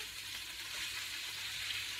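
Steady, close sizzling of kale chips frying in hot oil, a continuous crackling hiss with no voices.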